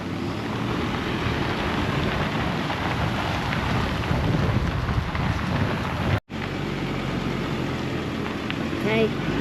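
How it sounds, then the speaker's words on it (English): Steady, heavy wind roaring into the microphone, with broadband rumble throughout and a brief dropout partway through. "It's still windy."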